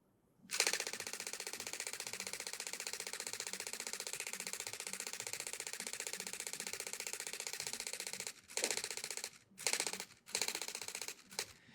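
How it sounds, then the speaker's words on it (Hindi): A Canon EOS R10 mechanical shutter fires continuously at 15 frames per second, making a fast, even, close mechanical rattle for about eight seconds, then several shorter bursts with gaps between them. "मैंने मैकेनिकल शटर चूज़ किया हुआ है, तो एक बार क्लिक करते हैं और आपको मैं साउंड सुनाता हूँ।"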